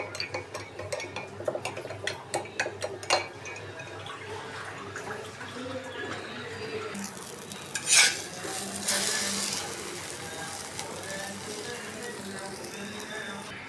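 Eggs frying in a home kitchen pan, with stirring, clinking cookware and a soft hiss from roughly the middle on, a sharp clatter near the eight-second mark, steady and moderately loud.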